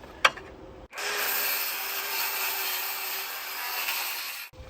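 Old wooden beadboard being cut by a power saw, one steady close whine lasting a few seconds after a brief knock, then cutting off abruptly.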